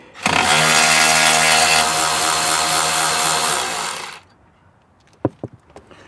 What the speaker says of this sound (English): Next, we're gonna get these 10mm bolts out.